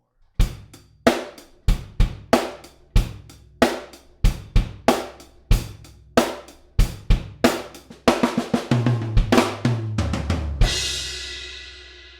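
A drum kit plays a steady kick-and-snare groove, then a busier fill of rapid hits that ends on a ringing crash cymbal.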